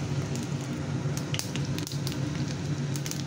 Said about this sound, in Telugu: ఆవాలు వేయించుకోవాలి